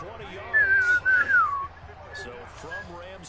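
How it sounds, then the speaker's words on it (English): Someone whistles a short, sliding melodic phrase during an American football game broadcast, the tune rising and falling over faint crowd babble and a few soft background voices. "Sorry, I like whistling."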